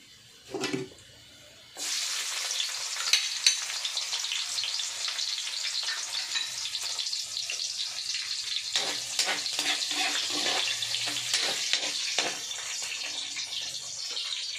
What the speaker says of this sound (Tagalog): gigisa ko ng bawang at sibuyas